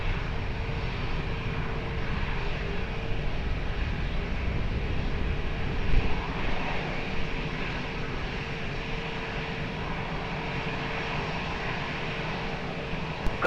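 An airplane on approach to runway 20 at Lisbon Airport gives a steady, fairly loud broadband jet roar that holds for the whole stretch, with a slight swell near the middle and no voices.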